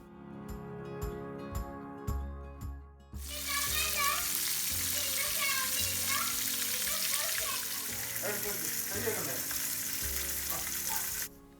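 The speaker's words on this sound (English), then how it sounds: "Place the shrimps one by one in the pan without overcrowding and fry until they're golden brown" Shrimps fry in oil in a pan, a loud dense sizzle with crackling pops that starts suddenly after a few clinking taps and holds steady to the end.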